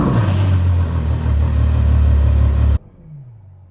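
Ferrari FF V12 engine roaring loudly and close, a sustained deep revving drone that cuts off abruptly, followed by a quieter low settling tone.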